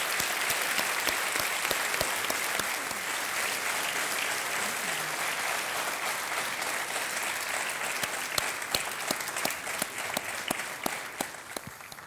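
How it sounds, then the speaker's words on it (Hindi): A studio audience on a television quiz show claps in sustained, enthusiastic applause. Dense, even clapping fills the room throughout, with a few sharper individual claps standing out near the end. "हम आपको सलाम करते हैं और एक बार फिर तालियों के साथ आपका अभिनंदन करते हैं।"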